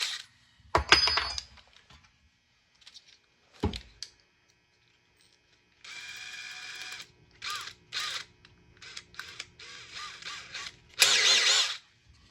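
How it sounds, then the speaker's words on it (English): A power drill whines in several short bursts while drilling through a handle, separated by pauses, with sharp clinks and clatter of the tool and workpiece. "Make sure you drill straight through."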